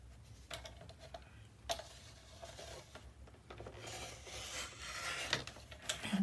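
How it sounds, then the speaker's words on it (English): A paper trimmer slices an overhanging paper edge on a mini album page, soft rasping slides and light ticks repeating at close range, quiet, with no speech. "So what I'm going to do is put this on the trimmer."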